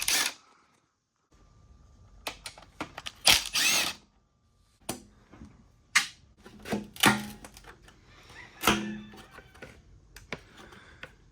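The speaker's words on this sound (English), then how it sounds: "So go ahead and remove those bolts and take off the shrouds." Bolts being loosened with an Allen key from the side shrouds of a 2021 Honda CB650R motorcycle: scattered close metallic clicks, taps and ratcheting scrapes in irregular bursts, with a short quiet gap near the start.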